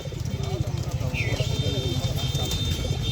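Soft pigeon coos rise and fall repeatedly at a market, beneath a steady background of talking voices and low rhythmic noise.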